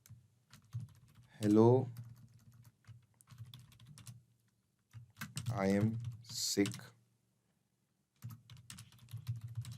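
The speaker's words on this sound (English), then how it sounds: "I am not typing a really long message" Typing on a computer keyboard, bursts of rapid soft key clicks in a quiet room, interrupted by a person speaking in between.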